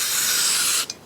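Cleaner sprayed onto a Solex carburettor's progression holes in one steady, close hiss lasting most of a second, then cutting off with a brief sputter at the end.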